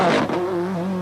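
A Ford Escort WRC rally car in Hertz colours, running down on power at a 1997 Irish tarmac rally, holds a steady buzzing engine note that dips slightly after a brief rougher opening. Short, close and heard alone.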